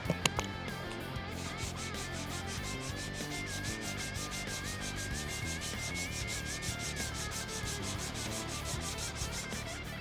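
A hard sanding block with 240-grit dry sandpaper rasps over car paint in quick, rhythmic back-and-forth strokes, close and steady throughout.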